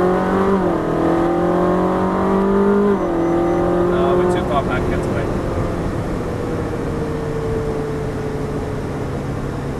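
A Ferrari 458 accelerates hard on the Dubai Autodrome track, its engine note rising through a gear change before settling into a steady high drone, loud and close with wind noise, while a person talks over it.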